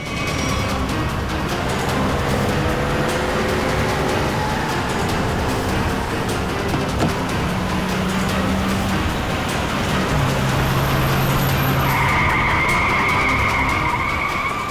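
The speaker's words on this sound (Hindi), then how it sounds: "ये कहां से आ गए? गाड़ी भगा।" A car races away during a chase, its tires skidding and squealing in long sustained screeches over a loud, continuous engine roar.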